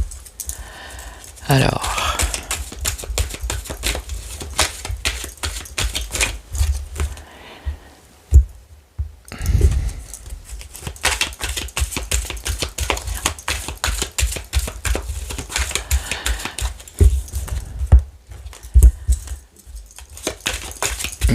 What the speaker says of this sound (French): Il faut que je remélange bien.